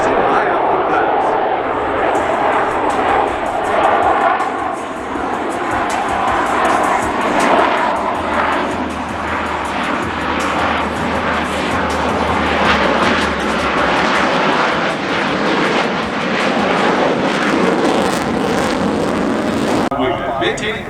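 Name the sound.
Blue Angels Super Hornet jets making a high output pass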